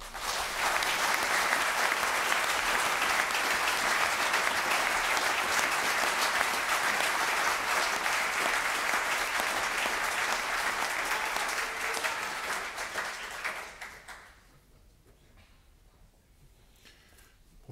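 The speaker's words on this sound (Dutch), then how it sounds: "Een applaus voor mijn context." Sustained, full applause from the audience after an inaugural university lecture on obesity prevention, holding strong for about twelve seconds before fading away to near quiet.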